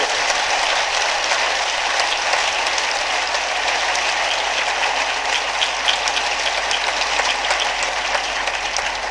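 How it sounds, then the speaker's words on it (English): A large audience at a school convocation claps warmly in sustained, dense applause that stays loud and even for the whole stretch, with no voices on top. "Please give him a very warm clap."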